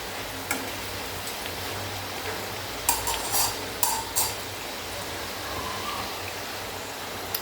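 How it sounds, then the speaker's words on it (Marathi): Potato and sabudana bhaji frying golden on both sides in hot oil, a steady dense crackle and hiss with a few brief louder clinks of a utensil against the pan, no talking. "आता दोन्ही साईडनं आपण गोल्डन फ्राय करून घेणार आहोत"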